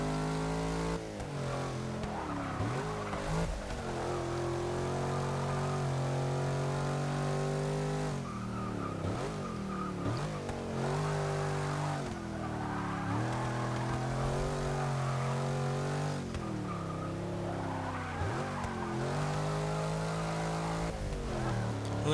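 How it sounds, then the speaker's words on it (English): A deep, throaty Hemi V8 engine of a 2014 Jeep Grand Cherokee SRT in the video game Forza 6 roars continuously, rising and falling in pitch as it revs up and shifts, loud and steady throughout. "Still sounds really good with that Hemi as well."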